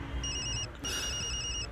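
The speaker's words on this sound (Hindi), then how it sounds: "वीर ऑफिस में ही था जब उसका फोन बज उठा।" A telephone rings in an office with a repeating electronic ringtone in two bursts separated by a short gap, steady and clear against low background hum.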